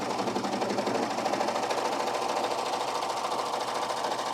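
A Baby Lock serger runs steadily, overlocking the edges of satin fabric with a 4-thread overlock, a fast continuous mechanical whir and rapid stitching clatter close to the mic with no talk.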